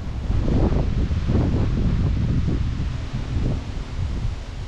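Steady rush of wind through trees at a campsite with leaves and branches rustling and gusting, loud and continuous, with low rumbling buffeting throughout.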